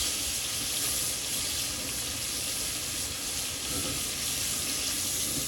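Chicken leg skin sears in a hot pan, a dense continuous hiss and sizzle at steady loudness with no pauses or voices.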